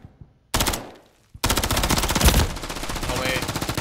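Automatic gunfire in ranked Call of Duty Modern Warfare 3: a short burst, a brief lull, then a sustained rapid stream of loud, close shots.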